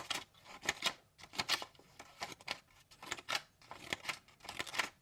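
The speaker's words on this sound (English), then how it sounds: "Cutting through that paper like nobody's business." A SOG PowerPint multitool's small scissors cut through paper with a rapid run of crisp snipping strokes, about a dozen quick cuts in an uneven rhythm, close but fairly quiet.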